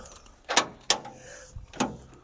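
A car door with damaged bodywork being shut and locked, three or four sharp close clunks and latch clicks spaced about half a second apart against quiet room noise.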